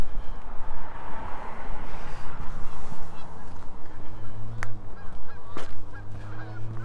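Geese honk repeatedly, overlapping at a moderate distance, in A.E. Wilson Park, Regina, on the last day of winter, with a soft wind-like outdoor background throughout.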